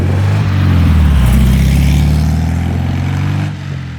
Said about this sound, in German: Ach ja, so eine schöne sonnendurchflutete Landstraße mit dem Porsche 356 macht Spaß.